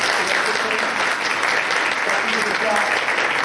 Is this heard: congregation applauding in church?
yes